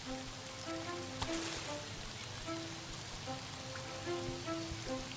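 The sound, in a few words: rain in the farming video game Cropdeck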